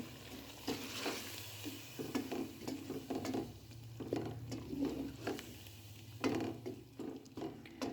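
Turmeric and chicken powder are stirred into sizzling masala with tomatoes in a pan, a continuous fry hiss under repeated close scraping and clinking spoon strokes.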